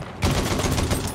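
Maxim machine gun firing in a battlefield video game on the Achi Baba map, a dense, continuous rattle of rapid shots that stays loud and steady for the whole moment.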